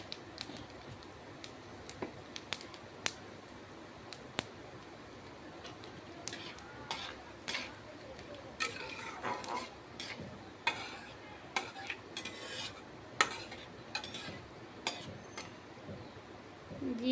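Cumin seeds are stirred in a hot pan, a spoon scraping and clinking against the metal in scattered light taps, with only a faint sizzle underneath.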